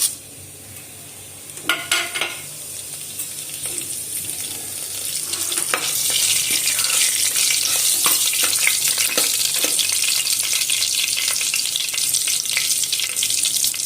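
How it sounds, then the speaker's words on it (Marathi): Whole spices fry in hot oil inside a pressure cooker for an egg pulao. A few metallic clinks and drops are followed by a loud, bright sizzle that swells after about six seconds and holds steady and close. "आता या कुकर मध्ये आपल्याला तेल घालायचं आहे। त्यानंतर याच्यात हे मगाशी घेतलेले सगळे खडे मसाले घालायचे आहेत आपल्याला"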